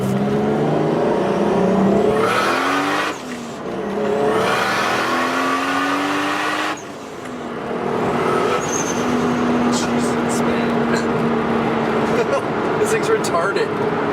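A high-powered car accelerates hard, its loud, close engine note climbing steeply through the revs, dropping briefly at a shift or lift around seven seconds, then pulling strongly again.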